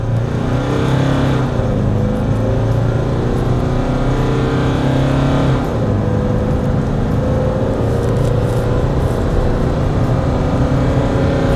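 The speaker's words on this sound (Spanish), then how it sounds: "Lo primero que voy a hacer es la aceleración. Lo pongo en drive, en tracción en dos ruedas, 2000 revoluciones." A Nissan Frontier Pro 4X pickup in drive and two-wheel drive accelerating from 2000 rpm, its engine a loud steady drone that climbs in pitch throughout, recorded close up with no voices.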